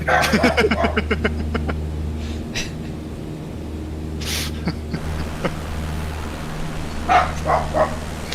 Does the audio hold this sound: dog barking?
yes